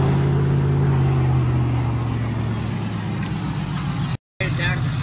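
A truck in Farming Simulator 19 hauling an antique tractor on a trailer to a fair, a steady droning engine with a low hum, a brief drop-out near the end, and someone talking over it.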